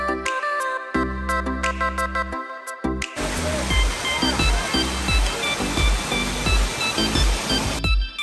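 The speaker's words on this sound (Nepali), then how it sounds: "यति झरनाहरू एकदम राम्रो रहेछ" A waterfall in Darjeeling roars as a steady, loud broadband rush of falling water, preceded by a few seconds of bright melodic tones, like a ringtone, before the water takes over.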